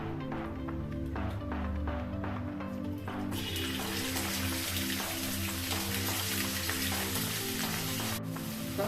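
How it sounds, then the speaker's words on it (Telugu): Sliced onions sizzle in a pan with salt added, a steady close frying hiss that carries on throughout. "ఇప్పుడు ఇది మొత్తం ఫ్రై అవనిద్దండి లైట్గా బ్రౌన్ బ్రౌన్ అవ్వాలి"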